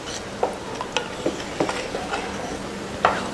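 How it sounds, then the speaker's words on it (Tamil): Salt being stirred into a simmering pot of kuzhambu, a tamarind-tomato curry, with a spoon scraping and clinking against the vessel in several sharp, irregular strokes over a soft background hiss. "உப்பு போட்டு கலந்து விட்டாச்சு."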